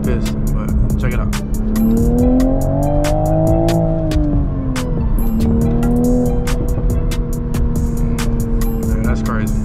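A Toyota GR Supra MK5 pulls hard in short bursts from the cabin, the engine note climbing, then dropping and rising again between shifts, loud and close, with sharp clicking transients throughout.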